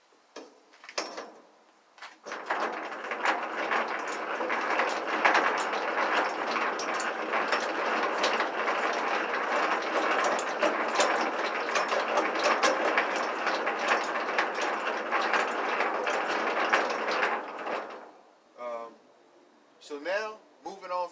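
Semi-trailer landing gear being hand-cranked through its ratcheting gearbox, a steady, close, continuous dense clicking and grinding that runs for about fifteen seconds before stopping, with brief talk just before and after.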